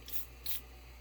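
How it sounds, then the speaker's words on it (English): Two short hissing bursts of water from a hand-pumped pressure sprayer misting plants in an indoor grow tent, close and fairly quiet over a steady low hum. "it gives you the ability to get in there, spray your plants really nice, good pressure"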